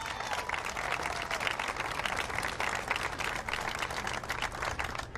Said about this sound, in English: let's give Bank 59 a big round of applause